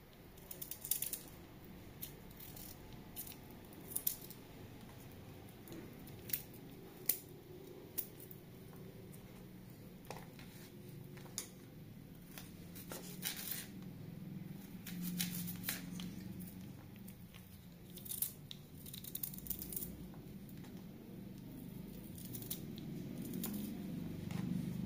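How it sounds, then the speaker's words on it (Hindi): A knife slices ginger into thin strips for lemon, chili and ginger pickle, giving faint, irregular taps and clicks against a quiet, hissy background. "अदरक के जो है इस तरह से पतले स्लाइसेस कर लेंगे पहले और फिर इस तरीके से इसके लच्छे काट लेंगे।"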